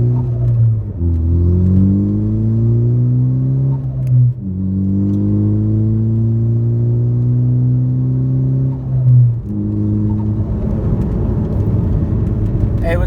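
A car fitted with new ATR Sport 2 tires accelerates on a test drive, its engine droning loudly and climbing in pitch through three gear changes, with no talking.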